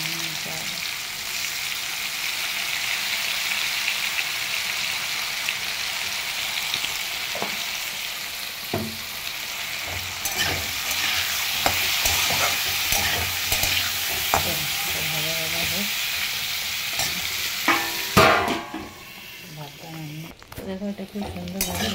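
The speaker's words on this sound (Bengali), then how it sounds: "খুব সুন্দরভাবে লাল লাল ভাজা হয়েছে" Food fries in a pan until it turns reddish, giving a steady sizzle with stirring scrapes and occasional pan knocks, while a voice talks faintly in the background.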